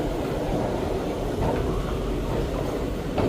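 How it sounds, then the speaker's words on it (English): A Montgomery escalator in a mall runs with a steady low rumble and faint rhythmic clacking, a continuous mechanical drone with no talk over it. "This up escalator sounds like a Kone elevator."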